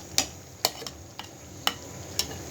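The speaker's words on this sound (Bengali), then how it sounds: "পানি দিয়ে এখন ভালো করে কষিয়ে নিব ওই মাংসটাকে" Meat frying in a pan, stirred with a utensil: a quiet sizzle under five or six sharp, evenly spaced scrapes and clicks against the pan, with no voices.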